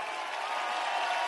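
Applause from a concert audience at a gig, a brief, steady burst of massed clapping with no break, fairly loud and filling the space.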